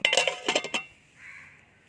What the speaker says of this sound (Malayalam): ഞാനിത് മൂടി വെക്കുകയാണ്.